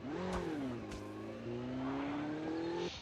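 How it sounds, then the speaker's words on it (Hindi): Motorbike engine revving in the mobile shooter Call of Duty Mobile, a steady mid-pitched drone that rises and holds, with gear-shift dips, loud and close for about three seconds. "बाइक लेके सीधा जॉन की तरफ निकल लेता हूँ"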